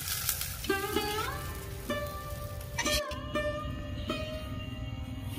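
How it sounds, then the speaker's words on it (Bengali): Sooji rosh bora fritters fry in hot oil with a continuous crackling sizzle, while tonal background music plays over it. "এইভাবে আমি সবগুলো ভেজে নেব।"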